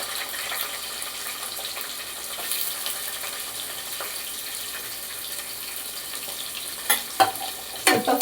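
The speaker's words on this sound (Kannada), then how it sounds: "ಈರುಳ್ಳಿ ಸ್ವಲ್ಪ ಫ್ರೈ ಆಗಲಿ." Green chillies and onion frying in hot oil in a home kitchen pan, a steady soft sizzle throughout with a few sharper clinks and stirring knocks near the end, no talk.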